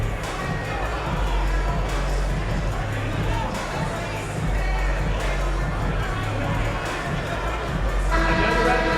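Virtual arena crowd in the NBA 2K24 basketball video game, a loud continuous roar of cheering and crowd noise with a commentator's voice woven through it.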